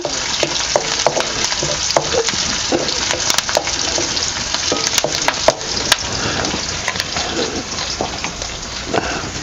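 Chilies and garlic sizzle and crackle in hot oil in a pan, a steady dense frying hiss with scattered pops and stirring clicks throughout, close and loud with no talking.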